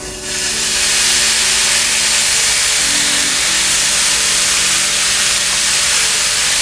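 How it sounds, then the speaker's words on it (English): Hamburger patty sizzling in oil in a frying pan over low heat, a loud, steady broadband hiss that starts abruptly as the meat goes in and continues evenly throughout. "So now you're gonna get your hamburger, keep it on a low, and then just place it."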